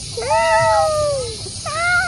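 A person imitating a cat, giving two drawn-out meows with rising and falling pitch, close and clear, over a low background hum.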